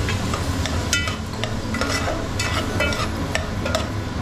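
Chopped onions and tomato frying in oil in a pan for an Agri-Koli chicken curry, a steady close sizzle with repeated stirring scrapes and clicks, no voices.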